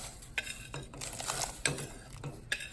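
Fresh potatoes tumbling into a pot of carrots cooking on the stove, a few clattering knocks and scrapes of utensil against cookware with a faint sizzle beneath, close and fairly quiet.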